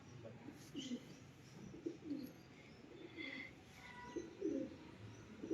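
Pigeons cooing in cold, windy weather outdoors in Delhi, soft repeated coos in short bursts over a steady background hiss, fairly faint and distant.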